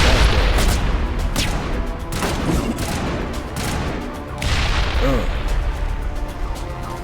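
Grenade blast in the Mass Effect video game amid a steady roar of combat, with booming bursts and gunfire throughout and voices briefly talking over the chaos.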